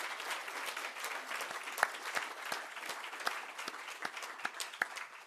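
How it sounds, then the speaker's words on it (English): Scattered applause from a conference audience at the Glass House, individual claps clearly separated in a loose, uneven rhythm, fairly quiet and distant with no talking. "You might give them all a great round of applause as well."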